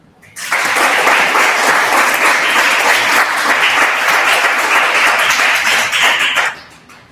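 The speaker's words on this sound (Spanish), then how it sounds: "Un aplauso para la gente." A conference audience applauds loudly after a talk on maternity and maternal mental health. The dense, sustained clapping starts abruptly after half a second, holds steady for about six seconds, then stops sharply.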